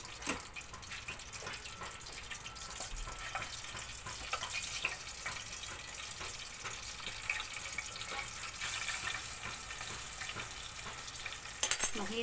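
Chicken pieces fry in hot oil over a low flame, giving a continuous gentle sizzle and crackle with occasional pops and clinks nearby.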